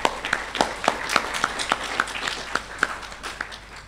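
A small group claps in a rhythmic, evenly spaced pattern at an African human rights commission opening ceremony in a conference hall. The claps are moderately close and sound slightly reverberant.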